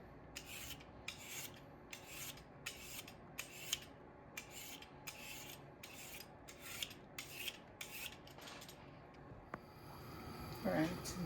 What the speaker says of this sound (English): I'm using my peeler and the carrot.